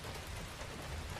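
Steady rain falls continuously against window glass at night, a dense even wash of hiss with low rumbling undertones, quiet and unbroken throughout with no voices.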